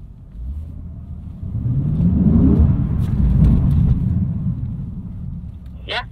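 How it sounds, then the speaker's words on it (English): A Lexus sports car engine on a race track rises and holds a loud revving roar during an oversteer drift correction, then eases off, with an instructor talking over it. "Can you show me a good oversteer correction? Just a couple of times, and then we'll go back to drifting."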